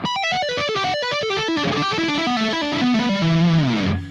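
Electric guitar playing a fast tapping lick in pentatonic position 1, with rapid cascading notes that climb and fall in an even stream, mildly distorted, loud and close, with no talking.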